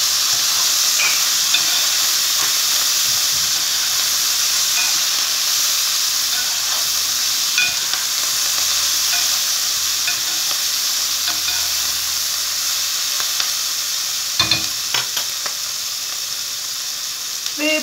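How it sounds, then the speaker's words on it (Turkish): Tarhana ingredients sauté in a pan with a steady, close sizzling hiss that runs the whole time, with occasional light clicks of stirring and no talk. "Şurada 2 dakika bir sotelensin bu."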